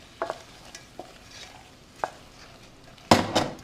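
Shrimp are stirred into a creamy wine sauce in a pan: scattered scrapes and clinks of a utensil against the pan, with a louder clatter near the end and a faint sizzle beneath.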